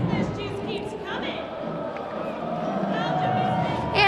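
A homecoming parade crowd at Ohio University cheers loudly and continuously, with mixed shouts and chatter, under a voice speaking over it.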